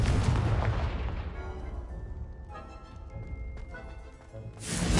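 A Confringo blasting spell detonates in Hogwarts Legacy, a loud booming explosion that rumbles and slowly fades, followed by a second blast swelling at the very end.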